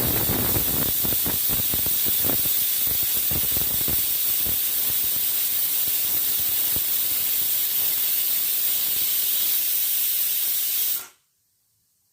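A pressure cooker of dal vents a loud, continuous hissing whistle of steam for about eleven seconds, then cuts off abruptly into silence.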